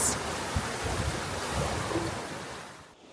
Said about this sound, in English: Man, these waves are huge.